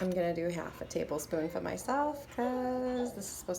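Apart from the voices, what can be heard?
No distinct noise like a dog, phone or traffic.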